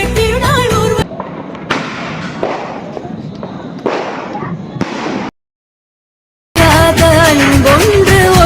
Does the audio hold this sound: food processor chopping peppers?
no